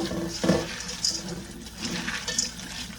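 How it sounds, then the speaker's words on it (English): Pinto beans rinsed under warm running water in a kitchen sink, giving a steady close rush of water with a few louder splashing surges. "I rinsed them with some warm water, hot water really."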